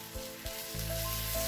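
Chettinad egg fry sizzles loudly and evenly in a hot pan, with a short scrape from turning the egg.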